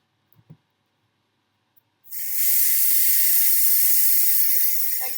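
A Pressure King Pro pressure cooker valve releases steam in a sudden loud, steady hiss that begins after a couple of quiet seconds with faint clicks and continues strongly to the end.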